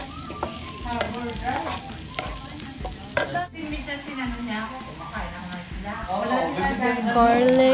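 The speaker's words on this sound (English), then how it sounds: "This is oil and onion. Need to saute it until it caramelizes." Onion frying in oil in a pan for quesadillas, with stirring scrapes and a steady sizzle that grows louder toward the end, while a voice speaks briefly.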